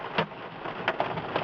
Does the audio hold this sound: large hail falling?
yes